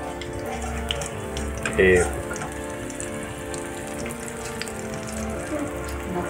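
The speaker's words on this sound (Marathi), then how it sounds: "हे बघा, अळूवडे तळते आहे" Colocasia fritters (alu vadi) fry in hot oil with a steady, close crackling sizzle, while a voice speaks briefly over it.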